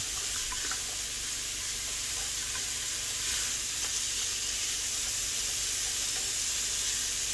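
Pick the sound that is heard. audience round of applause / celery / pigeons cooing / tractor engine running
celery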